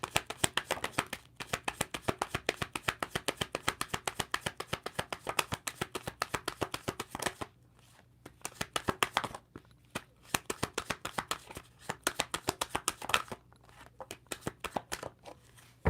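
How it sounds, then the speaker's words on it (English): A deck of tarot cards is shuffled over and over in crisp, rapid riffling bursts close by, with two brief pauses between runs. "I'm being called to see if there's any other message to throw a shuffle more."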